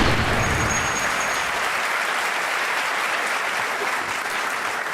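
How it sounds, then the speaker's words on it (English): Audience applause at a seminar, a steady, full wash of many hands clapping that holds evenly throughout, with faint crowd murmur beneath. "So give yourself a round of applause for being part of this."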